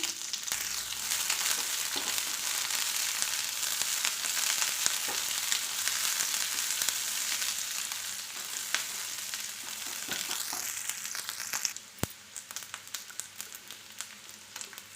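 A steady, loud sizzle of chopped onion frying in oil fills the whole stretch, with occasional stirring scrapes and clatters toward the end.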